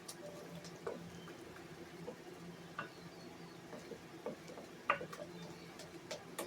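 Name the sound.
stirring a flour slurry for sourdough bread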